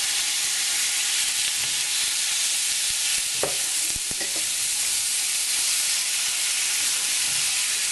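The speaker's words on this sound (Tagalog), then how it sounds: "At igigisa rin natin to hanggang sa mag-light brown na yung outer part nitong pork." Pork sizzles steadily in a hot pan while being sautéed for afritada, a loud continuous frying hiss with a few brief scraping stirs partway through.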